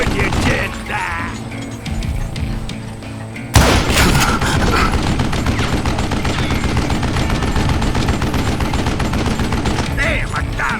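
Gunfire during a zombie shootout in the game Call of Juarez: Gunslinger: dense, loud, rapid shots and mechanical clatter that thicken sharply after a brief lull, then stay continuous to the end.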